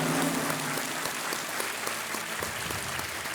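A studio audience on the quiz show Kaun Banega Crorepati applauds in a dense, even wash of clapping that carries on steadily for a few seconds.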